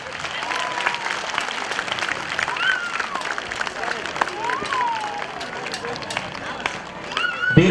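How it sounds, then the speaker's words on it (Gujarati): Audience applause at a Patel Samaj donation ceremony, a steady broad wash of clapping mixed with crowd murmur and scattered voices, sustained throughout and swelling slightly at the end. "તાળીઓ 11 લાખ વાળી પાછી ધીમે પડી"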